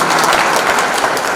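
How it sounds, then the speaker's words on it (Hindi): An audience at a Hindi university event gives a brief burst of dense applause for the Prime Minister, loud and close. "अब वर्तमान के यशस्वी प्रधानमंत्री के लिए भी तालियां बजाइए"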